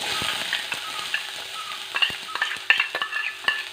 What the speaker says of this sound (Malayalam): അതിലോട്ട് ഇടുവാണ്. ഒന്ന് വഴറ്റട്ടെ.